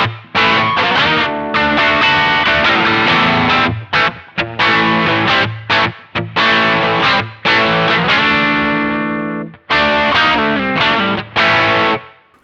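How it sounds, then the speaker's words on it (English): An electric guitar played through a MayFly Creamsicle Overdrive pedal chugs out crunchy, distorted rhythm chords in choppy bursts with short stops between phrases, loud and alone. "So that is the MayFly Creamsicle Overdrive. What a fantastic sound."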